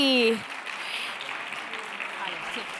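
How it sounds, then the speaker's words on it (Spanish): Applause from an audience fills the clip after a brief voice at the start, a steady wash of clapping at moderate volume. "Pido un fuerte aplauso para ellas"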